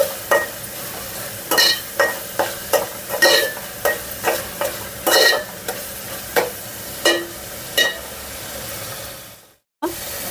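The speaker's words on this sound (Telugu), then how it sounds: "2 స్పూన్ల అల్లం వెల్లుల్లి పేస్ట్, వేసుకొని బాగా వేగాలి." Ginger garlic paste frying in a pan for a Telugu chicken curry, with about a dozen steady spoon-scraping stir strokes over a soft sizzle. It is close and fairly loud, with no voice, and ends abruptly.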